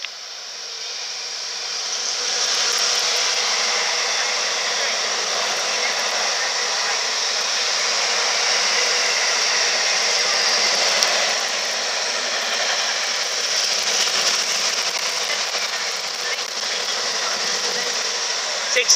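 A London Midland passenger service arrives at Lichfield Trent Valley, a steady loud rumbling roar of the train sustained for the whole stretch, with a faint voice at times; no distinct horn blast stands out.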